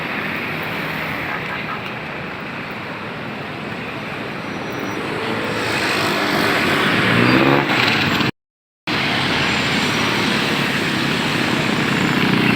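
Heavy road traffic near a toll gate makes a loud continuous roar of engines that swells midway, broken by a brief dropout of total silence.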